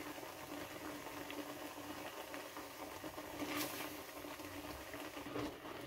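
Kalakand milk mixture with desi ghee bubbling and spattering over a flame, a steady close, busy crackle and pop of boiling liquid with no talk.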